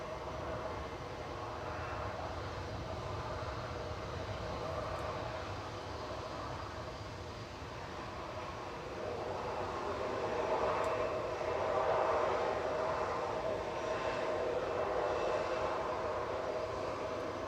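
A distant EasyJet Airbus A320neo lines up on the runway at Manchester Airport, its engines a steady broadband jet roar that swells slightly in the later seconds, heard alone without voices.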